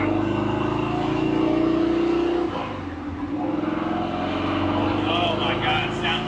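A 1935 Factory Five hot rod with a Ford Racing 427ci V8 drives along, its deep engine rumble steady and close, with a brief dip around a gear change before pulling again.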